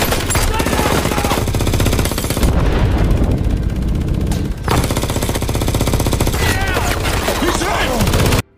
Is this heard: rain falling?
no